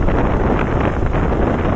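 Strong wind roars over the microphone while riding a motorbike, a loud, dense rush that stays steady and unbroken, with no speech.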